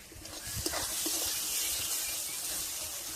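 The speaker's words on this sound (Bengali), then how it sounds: "হালকা করে জল দিয়ে দিচ্ছি আর এবারে টমেটো দিয়ে দিচ্ছি" Chicken masala fries in a pan as water and tomato go in, giving a close, continuous sizzling hiss with scattered crackles and stirring clicks.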